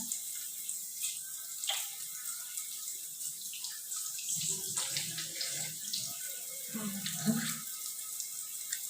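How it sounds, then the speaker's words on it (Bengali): Water runs steadily from a tap while hands are washed beneath it, with splashing and sloshing that thickens midway, close and alone, with no voices. "হাতটা ভালো করে ওয়াশ করে নিলাম"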